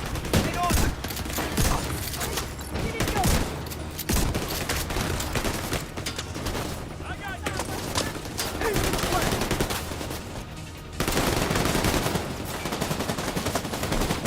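Shotgun fire in The Division 2 during a gameplay firefight: loud, rapid, repeated blasts crowd together into near-continuous gunfire for the whole stretch, with occasional talk underneath.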